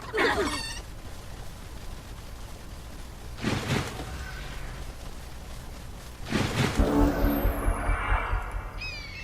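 Chickens cluck and squawk in short bursts over a low game hum, with a few whooshing effects in between, as chickens are thrown in combat in the fantasy strategy game Age of Wonders III.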